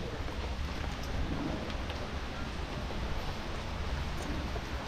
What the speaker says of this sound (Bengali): আবার বৃষ্টি চলে আসছে